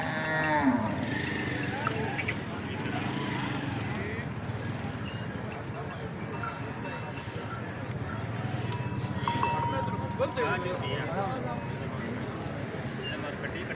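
Buffaloes at a busy livestock market in Kharian, Pakistan, with low moos and animal calls under a steady hubbub of nearby crowd voices and someone talking throughout.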